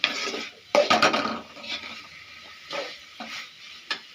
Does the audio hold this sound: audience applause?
no